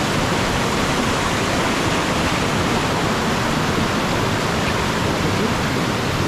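A river on the Mount Roraima descent trail roars in a dense, steady, loud rush of water that never lets up, close by and filling the whole scene.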